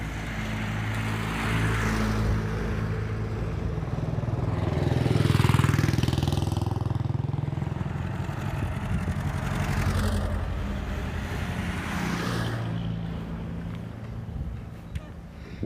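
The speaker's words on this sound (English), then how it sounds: "Ourselves into the middle of a vintage car rally." Vintage car engines at a vintage car rally, a mix of running motors and passing vehicles that swell and fade over the scene, with one louder pass near the middle and people talking nearby.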